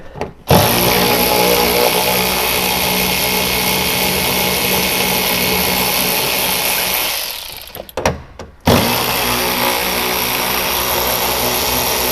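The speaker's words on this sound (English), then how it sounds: "didn't I have a little ratchet, the electric ratchet over there?" An electric ratchet runs in long loud buzzing bursts while bolts come out of a Mazda Miata (MX5) track car dashboard, close up, with short pauses between runs.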